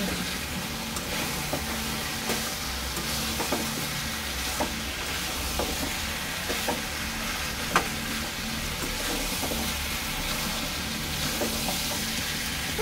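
Fried soybean chunks sautéing in a curry in a pan, a continuous sizzle broken by repeated scraping and stirring taps, with no talking.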